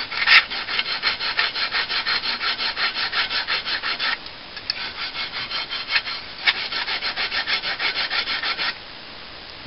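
A file rasps back and forth along a wooden knitting needle in quick, even strokes, close and steady, pausing briefly once before the rhythmic scraping resumes.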